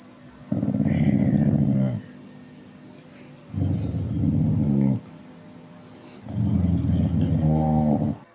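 A dog growls in three long, deep, rumbling bursts separated by short pauses. The growls are close and loud, with no talking.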